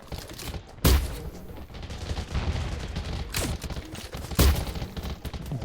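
Bursts of gunfire in the Garena Undawn shooter game: two sharp, loud shots about three and a half seconds apart, with a steady crackle of distant fusillade and rumble between them.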